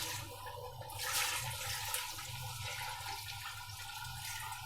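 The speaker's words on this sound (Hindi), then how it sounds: "अब इसमें हम डालते हैं पानी एज़ रिक्वायर्ड।" About 1.5 litres of water is poured into a large cooking pot of meat for haleem, a steady soft splashing and gurgling stream that runs throughout at moderate level, with no talking.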